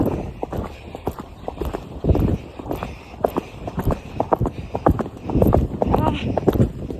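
Hooves of a ridden horse clip-clop steadily along a trail outdoors, close and fairly loud, with irregular footfalls and shuffling throughout, while riders talk over the sound.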